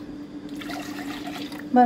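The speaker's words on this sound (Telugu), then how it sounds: "ఇప్పుడు ఇలా వాటర్ వేసుకుందాం" Water pours and splashes softly into a pot or container for a moment, with a brief voice at the end.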